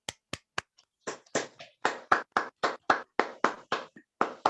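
Close hand claps at an event, a few sparse claps at first, then a steadier run of fairly loud claps with brief uneven gaps.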